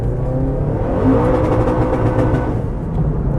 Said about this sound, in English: Now I'm just out to test the new rev limiter.